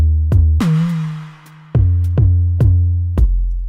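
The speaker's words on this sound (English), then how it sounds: "This is the 808." Deep 808 sub bass notes from a music production, played alone in a steady rhythm of booming hits, each with a sharp attack and a long sustaining low tone, one held longer near the start.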